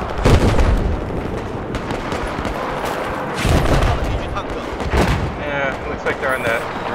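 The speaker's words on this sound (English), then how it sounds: "The amount of explosions that are happening literally right next to me," Explosions and gunfire in Battlefield 4 arrive in several loud, close bursts between ongoing crackling shots, with heavy booms near the start, middle and end.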